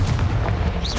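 A Confringo blasting spell explosion in Hogwarts Legacy booms loud and close as one dense, heavy blast that fills the whole moment.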